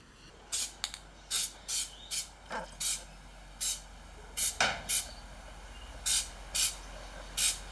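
Repeated short hissing sprays from an aerosol can of spray adhesive, about a dozen quick bursts with brief pauses between, fairly close and otherwise quiet.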